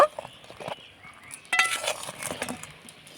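A utensil stirring a layered balushahi sweet in a pan, with a few light clinks and scrapes in short bursts, close and moderately loud, no voices present.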